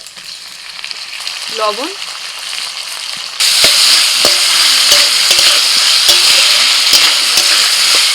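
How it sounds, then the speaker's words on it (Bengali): Potato, onion, ginger-garlic paste and chopped tomato fry in a pan, a low sizzle that jumps to a loud, bright crackling hiss as the tomato goes in, with scattered stirring clicks and a brief spoken word. "আলু পেঁয়াজের সাথে আদা রসুনটাকেও একটু ভেজে নিচ্ছি"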